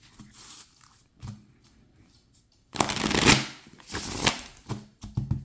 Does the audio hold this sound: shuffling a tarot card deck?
yes